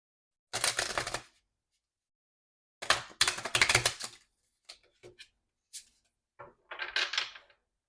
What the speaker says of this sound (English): Just gonna shuffle the cards again.